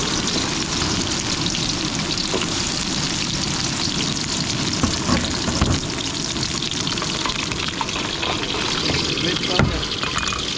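Garlic and onion fry in a pan at a seaside cooking spot, a steady dense sizzle running throughout at moderate level with occasional louder crackles, with faint talk now and then.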